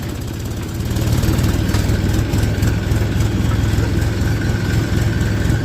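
A tractor hauling a sugarcane trolley idles near a sugar mill in winter, a loud steady low rumble with a continuous engine drone throughout and no talk.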